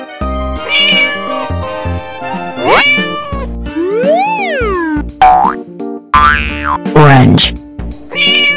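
A cartoon cat gives a few bright, close meows amid bouncy boing effects and music in a children's colour-learning song about domestic animals; a voice names the animal.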